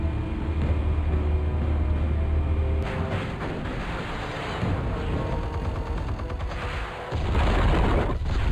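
Explosives go off in Batman: The Telltale Series, loud heavy booming blasts with low rumble, one burst at the start, a dense sustained roar of debris, then another deep blast near the end.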